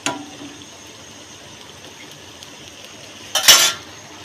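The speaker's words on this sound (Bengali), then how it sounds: "এই যে এইখানে চিংড়ি রান্না করছি পেঁয়াজ দিয়ে" Shrimp cook with onion in a pan, sizzling softly under a steady hiss while a utensil stirs, ending in a brief louder scrape and splash of stirring near the close.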